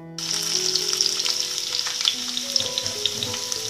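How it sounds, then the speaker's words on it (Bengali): Potatoes drop into oil already used for frying raw jackfruit and sizzle loudly at once, a bright, crackling hiss with popping spatters and faint utensil rings throughout. "এবার ওই একই তেলে আমি আমার আলুগুলো ভেজে নেব।"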